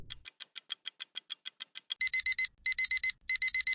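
An ANENG 613 smart multimeter set to its alarm sounds a rapid run of a dozen evenly spaced high beeps, then switches to clustered groups of four quick double-tone beeps, clear and alone.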